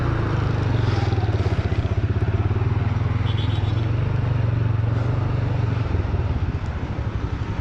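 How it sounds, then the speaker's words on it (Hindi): A motorcycle rides along steadily, its engine droning loud and close with a continuous pulsing rumble under faint road clatter, on a ride toward Sharan Forest. "तो ये रही हसीब की बाइक"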